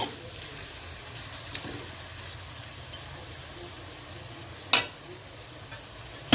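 Steady sizzling of onion and tomato sautéing in a pan, with a couple of sharp clinks from a utensil.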